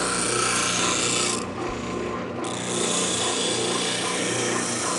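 A spindle sander grinds wood down to a pencil line, a loud, close, steady abrasive rasp that briefly eases as the workpiece lifts off, then resumes, with no talking.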